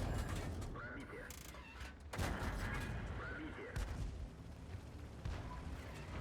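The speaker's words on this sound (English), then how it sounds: "Artie's shooting again." Artillery fire in a tank battle video game, with several sharp booming shots at intervals, faint and distant, over a steady game background and under occasional talk.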